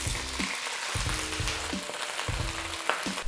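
Vegetables frying in oil in a wok, a dense, constant sizzle with a rhythmic low thumping underneath and a few small crackles, fairly close and with no voices.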